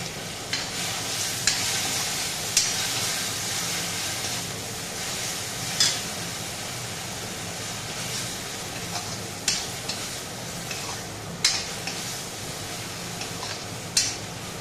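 Ginger paste and food sizzle steadily in a hot pan, with a spoon clinking against the pan every second or two.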